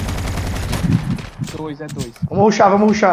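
Rapid bursts of gunfire in a shooter video game, quick repeated shots loud and close in the first half, then people talk over quieter game sound.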